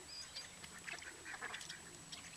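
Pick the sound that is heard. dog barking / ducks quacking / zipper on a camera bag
ducks quacking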